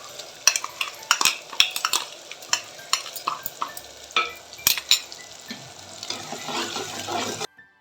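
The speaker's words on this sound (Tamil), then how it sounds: "தக்காளி, நல்லா வதங்கட்டும்." Tomatoes sautéing with curry leaves and garlic in a pan for a Tamil-style fish gravy, with a steady soft sizzle and repeated stirring and scraping clicks of a spoon against the pan.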